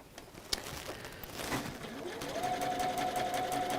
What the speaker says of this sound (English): And we're going to sew on the line again.